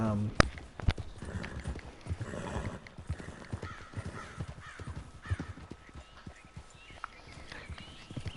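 Horse hooves clip-clopping during a ride in the video game Red Dead Redemption 2, a steady run of hoofbeats mixed with game ambience, a brief whinny and someone talking over it.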